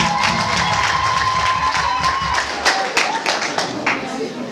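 Wedding guests clap and cheer together in a lively room, a continuous crowd of hand claps with shouts and voices, with a few sharper, louder claps standing out near the end.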